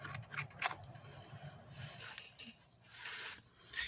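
Scissors cut through paper or card for a mini album, with a few close snips and rubbing, sliding handling sounds in a quiet room, no speech.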